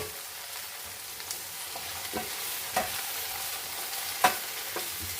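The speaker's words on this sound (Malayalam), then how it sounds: "ഇനി നമുക്ക് ആവശ്യമായ വെളിച്ചെണ്ണ ഒഴിച്ചു കൊടുക്കാം" Okra frying in coconut oil sizzles steadily in a pan while a utensil stirs it, with soft irregular scrapes and taps over a continuous hiss and no voices.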